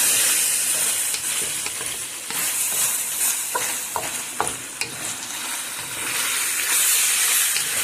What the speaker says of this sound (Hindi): तो थोड़ी देर फ्राई करते हैं, और ये ऑलमोस्ट डन है।